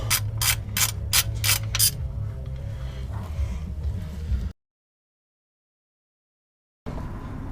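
Rapid ratchet clicks from a wrench loosening the transmission fill plug on a Nissan 350Z, five sharp bursts close up followed by steady low rumble, then a gap of silence before the hum returns.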